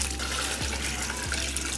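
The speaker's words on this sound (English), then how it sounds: "So you're gonna need 15 cups of water" Water pouring steadily into a bucket of foundry refractory mix, a continuous close splashing stream with no talk over it.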